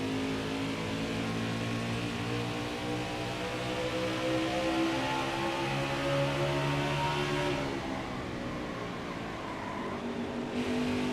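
Race car engine in the NASCAR Heat 5 video game at Phoenix, a loud sustained droning roar with shifting harmonic pitch as the car accelerates and lifts, other cars faintly alongside, no talking.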